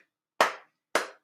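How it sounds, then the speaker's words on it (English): Two sharp, crisp hand claps ring out close and loud, evenly spaced about half a second apart, with quiet between them and no talking, during an address to an audience. "Let us have clap. Let us clap our hand here."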